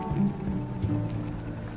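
Rain falling in Skyrim Special Edition, a steady, soft patter of drops that continues evenly, with low, sustained tonal music underneath.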